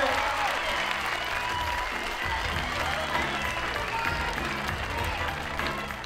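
A crowd at a climbing competition in Serre Chevalier gives sustained applause, dense steady clapping with a few faint cheers, fading slightly toward the end.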